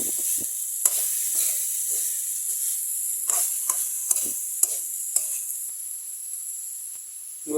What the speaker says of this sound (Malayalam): നമുക്ക് ഇടയ്ക്കൊന്ന് ഇളക്കി കൊടുക്കണം